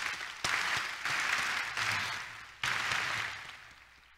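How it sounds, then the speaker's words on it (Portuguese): A church congregation at a Baptist conference service gives a round of applause, dense clapping that swells in several bursts and fades between them, heard from a moderate distance in a large room. "Vamos agradecer com uma salva de palmas."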